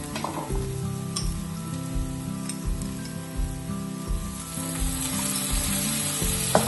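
Ginger garlic paste frying in a pan, a bright continuous sizzle with rhythmic low stirring thumps of a spoon against the pan, close and steady, no voices.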